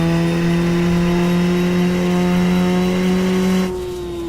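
A Lotus Formula 1 car on road tires in the racing game rFactor at the Spa circuit holds a loud, steady engine whine with a slowly rising pitch that abruptly drops away near the end.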